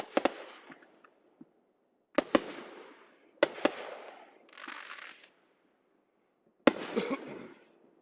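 Fourth of July fireworks bursting outdoors in Tennessee at night in irregular clusters of sharp bangs and crackles, some loud and close, with brief crackling tails and pauses between volleys.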